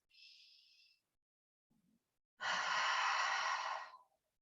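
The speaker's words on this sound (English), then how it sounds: "just take a few exhales out the mouth" A few slow, breathy exhales out the mouth, close and intimate: a short soft breath, a pause, then a longer, fuller rushing exhale lasting over a second before trailing off into quiet.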